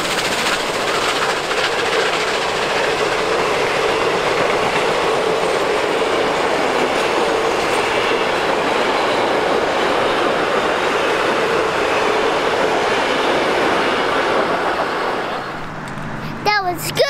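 A steam train rumbles past nearby in a steady, loud wash of rolling noise that holds for most of the clip, then eases as a voice briefly speaks.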